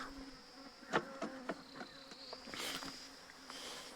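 Honey bees buzz steadily around a wooden hive box holding two queens in a merged colony, with several louder passes of individual bees flying close by.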